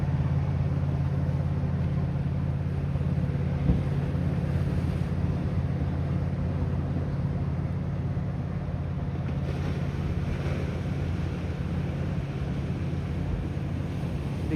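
A fishing boat's big V8 engine rumbles low and steady out on the water, heard from a beach with waves and wind noise blended into a continuous drone.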